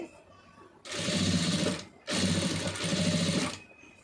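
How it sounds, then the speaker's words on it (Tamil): A sewing machine stitches blue cloth in two sustained runs of about a second and a half each, with a short pause between them. The motor hum and rapid needle chatter come through loud and close. "அதை கரெக்டாக பார்த்து தையல் போட்டு வந்துடுங்க"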